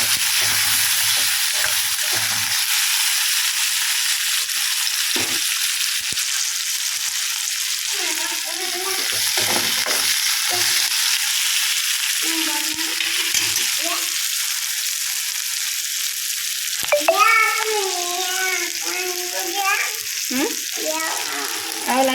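Chopped onions hit hot oil in a pan just used for frying fish, giving a steady, close sizzle that runs throughout, with scraping stir clinks and some tonal clatter later on.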